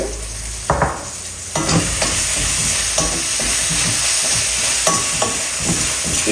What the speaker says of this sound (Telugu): ఇది కాసేపు ఫ్రై చేసి ఇది పచ్చివాసన పోయిన తర్వాత మనం ఇందులోకి క్యాప్సికమ్ యాడ్ చేసేద్దాము